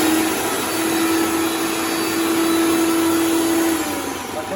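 A Morphy Richards 750 W mixer grinder runs at its second speed with a loud, steady motor whine and a constant hum, close by and unchanging until it eases slightly near the end, with no talking.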